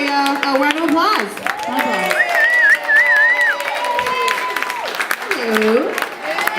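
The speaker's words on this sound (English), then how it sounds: "let's give her a round of applause" A crowd at a Lady Parts Justice comedy show in Detroit in 2014 claps and cheers, with whoops and excited voices rising over the applause.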